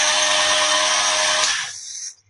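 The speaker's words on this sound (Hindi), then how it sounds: "सिंपल हमने इसको ग्राइंड करना है और पाउडर फॉर्म में हमने बना लेना है।" An electric grinder whirs loudly and steadily while grinding bread slices into powder for a milk kulfi recipe, then cuts off after about a second and a half, leaving a brief fading hum.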